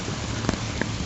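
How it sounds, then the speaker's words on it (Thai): Steady rain falls during flooding at the Nam Kok river bridge crossing near Xepon, a dense even hiss with a few louder drops, close by and unbroken throughout. "ฝนแท้ฝนว่า"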